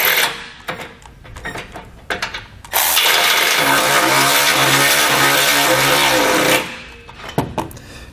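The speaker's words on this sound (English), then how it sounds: "we'll come back with a 3/4 inch socket and we'll tighten up that rear one" A 3/4 inch socket tightens a rear bolt during a Roadmaster crossbar-style install on a 2019 Chevrolet Sonic, with short ratcheting clicks, then a sustained loud whirring run of about four seconds, followed by a few more brief clicks.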